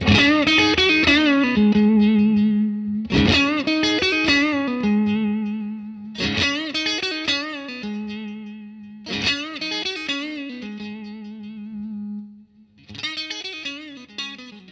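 Thin, bright Stratocaster electric guitar through an amp, playing five separate phrases of plucked notes that ring out and fade between each.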